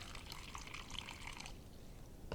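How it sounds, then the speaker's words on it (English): Water poured into a clear plastic bag, a soft trickling pour lasting about a second and a half, then quiet, ending with a small plastic rustle. "now we're going to pour about an inch of water in our bag"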